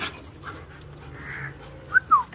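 A German Shepherd puppy gives two short, high whimpers near the end, over a faint, quiet background.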